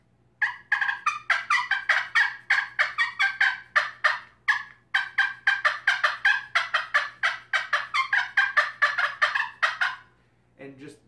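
A hunting call imitates a wild turkey's cutting, rapid sharp clucks in fast irregular bursts, loud and close, running almost continuously with a brief pause and no talking.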